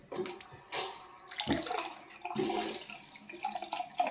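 A household tap runs with water splashing unevenly into a basin, close and moderately loud, with shifting gurgles and surges as the flow and hands move under it.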